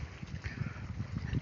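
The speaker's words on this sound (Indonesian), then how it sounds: "Nah, setelah dipupuk kita siram" Water poured from a small container onto young shallot plants in a field bed after fertilizing, giving a steady splashing, gurgling wash that stays close and continuous throughout.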